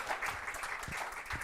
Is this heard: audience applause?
yes